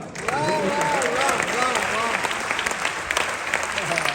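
A live audience rises and applauds at a Kanpur gathering, with dense, sustained clapping filling the hall alongside crowd noise and a voice speaking over it.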